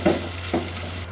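Shredded chicken fries in hot cooking oil, a brief close sizzle broken by two quick stirring bursts.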